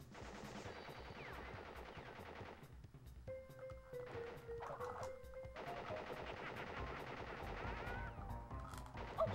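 Rapid bursts of video-game gunfire from Crash Bandicoot, loud and dense, with machine-gun-like rattles and crashes filling most of the stretch and a brief lull in the middle.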